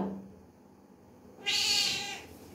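A single close, clear meow from an orange cat, drawn out for about a second after a quiet pause.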